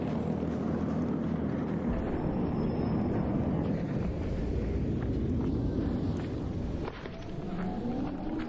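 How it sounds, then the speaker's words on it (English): A deep, rumbling turbine roar from the video game ARC Raiders drones on steadily, broad and heavy in the low range, with a brief dip near the end. "Oh, it's the turbine."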